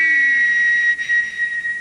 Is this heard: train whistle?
yes